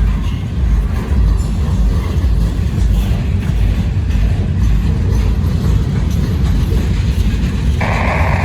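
Long freight train with loaded two-level auto racks rolls steadily past at close range, a continuous loud rumble and rattle of wagons with no break throughout.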